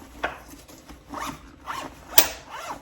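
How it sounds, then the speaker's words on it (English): A zipper on a vegan handbag's deep interior pouch is pulled open in several quick, close, raspy strokes with short pauses between them, heard alone without talking. "Hear that zipper? It's just so easy."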